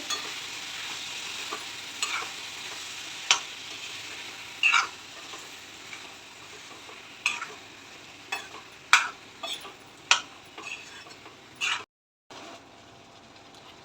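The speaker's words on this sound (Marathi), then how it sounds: "सर्व आता मिक्स करून घेऊया" Ivy gourd (tondali) dry stir-fry being stirred in a pan, with a steady soft sizzle under repeated scraping strokes of a spatula against the metal, some sharper clinks, and no talking.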